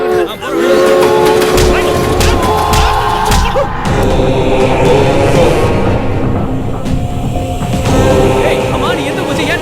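Loud train passing close by, with sustained horn blasts sounding over a constant heavy rumble and clatter of wagons along the track, some voices mixed faintly into the din.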